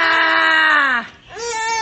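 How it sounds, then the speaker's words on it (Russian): A little boy screams loudly and shrilly in a sustained cry, breaks off briefly, then starts a second scream, with no other sounds beside him. "Видите, как он кричит."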